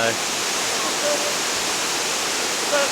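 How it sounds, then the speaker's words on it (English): Miller Falls, a single-sheet rainforest waterfall near Millaa Millaa in Far North Queensland, gives off a constant rushing roar that stays even and fairly loud throughout. "That's Miller Falls."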